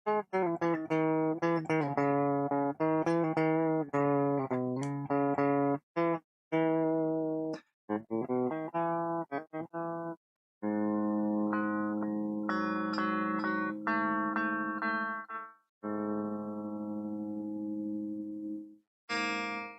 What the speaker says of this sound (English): So going back to that A, do that A Phrygian.